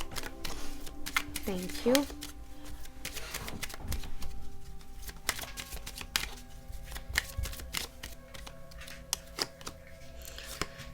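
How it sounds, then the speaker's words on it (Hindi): Tarot cards being shuffled by hand: riffling and flicking bursts with scattered soft taps, close and quiet, and a voice briefly speaking between them. "मैं और एक बार शफल करूँगी"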